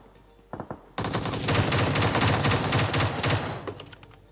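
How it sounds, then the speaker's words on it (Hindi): AKM rifle fire in a shooter video game: a couple of short shots, then a long, loud rapid burst of automatic fire that tapers off near the end, with no talking. "इसको मिल गई AKM और देखो इसको कैसे मारते हैं"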